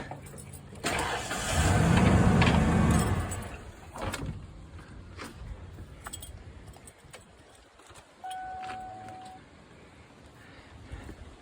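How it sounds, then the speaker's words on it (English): A 1994 Ford F150 engine cranks and catches, roars up loudly for a couple of seconds, then settles into a steady idle close by during a power steering flush, with a brief whine near the end. "We'll turn the car over just for a second."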